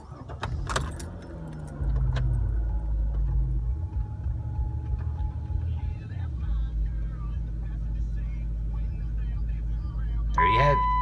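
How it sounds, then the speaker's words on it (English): A 2009 Dodge Avenger's engine starts after a short clatter of keys, then settles into a steady, close idle that holds to the end. "we'll start the car and see if it went off"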